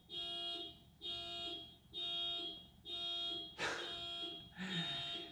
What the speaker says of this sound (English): I've got someone's stinking car alarm going off outside of my garage.